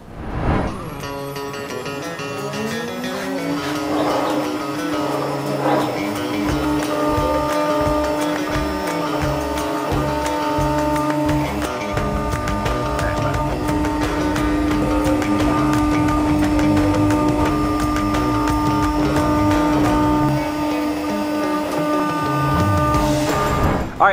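A CNC router cuts deeper pockets into a workpiece for a workshop kit project, giving a steady, loud machine drone with a sustained whine and a rhythmic mechanical pulse that runs the whole time without any talk.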